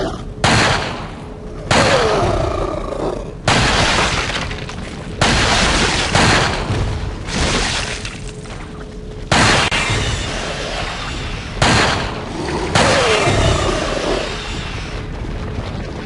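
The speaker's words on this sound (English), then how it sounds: "I'm going to use my Magnum on these guys" Magnum revolver shots fired at Ganados in Resident Evil 4, a series of loud, booming gunshots spaced a second or two apart, each with a long ringing decay.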